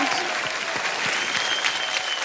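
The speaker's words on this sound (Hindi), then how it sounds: "उसके लिए ताली बजनी चाहिए।" Dense, steady applause from an audience for dancers at a dance show, loud and continuous across the short stretch with faint crowd murmur mixed in.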